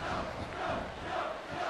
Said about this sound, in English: Fans are cheering for Shogun.